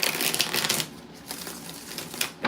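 Tarot cards are shuffled in quick crisp riffles, a burst of fluttering clicks followed by a few softer, shorter shuffles.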